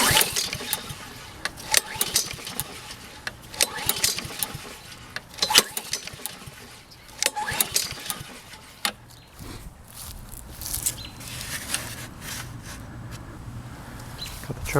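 A Husqvarna 22-inch HU700F walk-behind lawn mower with a Honda engine and a newly fitted blade, pulled repeatedly as someone tries to start it: rough bursts of sputtering engine noise and mechanical clatter in an uneven rhythm, close by.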